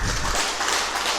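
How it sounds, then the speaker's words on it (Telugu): A crowd at a pyramid meditation gathering bursts into dense, steady applause, loud and continuous for the whole short moment. "గట్టిగా చప్పట్లు"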